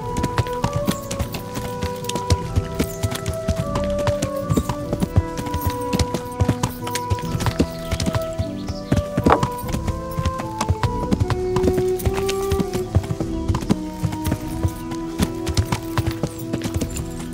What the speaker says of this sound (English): I don't see that horse anymore.